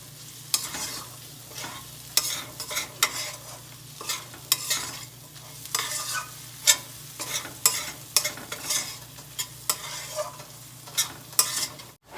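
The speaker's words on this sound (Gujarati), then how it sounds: "હવે સરસ રીતે બધું મિક્સ કરીને મિક્સ કરી દો" A spoon stirs onions and sev usal masala frying in a pan: repeated scraping strokes in an uneven rhythm over a low, constant sizzle, close and clear with no voices.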